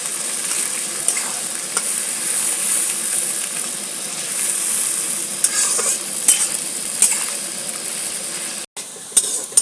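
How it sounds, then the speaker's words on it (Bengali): Onions being stirred and fried until brown for chicken biryani give a loud, bright, continuous sizzle up close, with scattered scraping taps of the stirring utensil and a brief cut near the end. "পেঁয়াজটাকে এবার একটু ব্রাউন করে নেবো বন্ধুরা এইভাবে নেড়ে নেড়ে"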